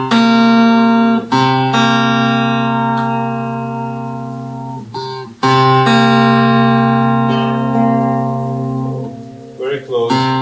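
A 31-tone equal-tempered guitar plays a septimal 7:4 interval as sustained chords with bright harmonics, restruck a few times and ringing loudly up close before fading, with no voices.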